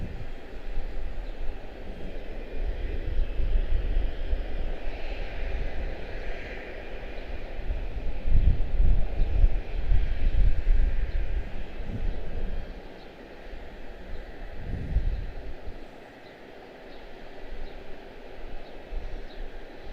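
Jet airliner taxiing at Charlotte-Douglas International Airport, a steady low engine rumble and hiss heard from a distance, swelling and fading slightly across the whole stretch with no talk.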